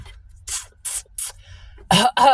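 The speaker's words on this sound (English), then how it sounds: "Cough." Several short, breathy bursts come in quick succession, like coughs, followed by two louder, rougher coughs near the end.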